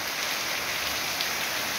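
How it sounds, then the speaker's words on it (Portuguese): Heavy rain falls steadily in Ceará, Brazil, a dense, even hiss with no breaks and no voices. "Eita benção, já é muita chuva,"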